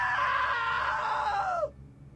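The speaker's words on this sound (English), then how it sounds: "Now that was a great scream." A loud, sustained scream from a character in the video game What Remains of Edith Finch, held strongly for over a second and a half before cutting off abruptly with a falling pitch, leaving quiet room tone.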